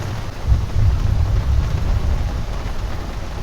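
Steady heavy rain with low rumbling thunder heard from a golf cart in The Villages, Florida, a dense continuous wash of downpour with a deep roll swelling underneath, no talking.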